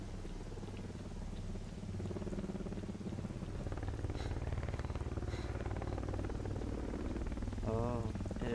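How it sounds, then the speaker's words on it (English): Helicopter flying in the video game S.T.A.L.K.E.R.: Call of Chernobyl, a steady droning rotor hum that swells slightly louder partway through, mixed with rain-like hiss and a brief warbling tone near the end. "Oh, it is a helicopter."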